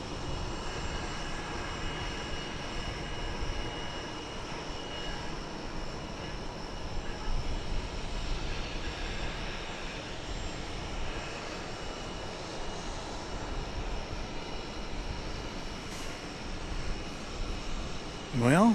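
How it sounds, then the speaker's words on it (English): Airplane arriving at DFW Airport, a continuous low engine rumble and whine heard from a distance, steady throughout with slight swells. "We actually do have a plane arriving."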